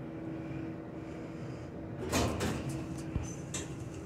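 An Otis Series 1 hydraulic elevator door at Wilmington Health in Wilmington, NC slides shut midway, ending in a soft thump over a steady background hum.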